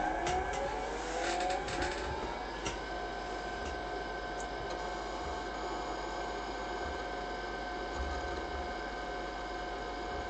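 IBM PS/2 P70 portable computer powering up, a steady mechanical whir and hum with faint high tones and a few clicks, continuous and fairly quiet throughout.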